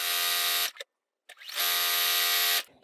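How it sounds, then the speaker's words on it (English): A Juki DX7 sewing machine stitches placemats, two loud steady motor bursts of stitching close up with a short silent pause between them. "I am using a Juki DX7 sewing machine"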